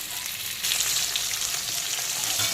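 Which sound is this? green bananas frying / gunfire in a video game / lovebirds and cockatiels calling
green bananas frying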